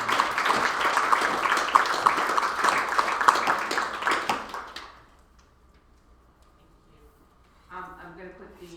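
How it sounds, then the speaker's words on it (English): A crowd at a school board meeting applauds with dense, steady clapping for about five seconds, then it stops abruptly and the room falls quiet except for faint murmuring at the end. "Just a round of applause."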